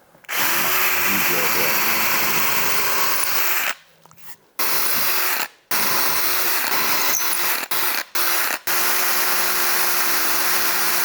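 A Japanese bamboo drill bit bores overlapping holes for a mortise, a steady loud whirring power-drill hum broken by several short pauses and quick restarts.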